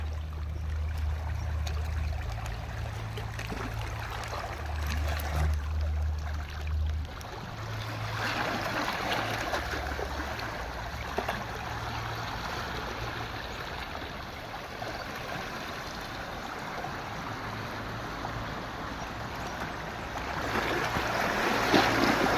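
Sea waves wash against rocks on a seashore, a continuous rushing surf with low rumble and wind, steady and fairly faint throughout with no voices.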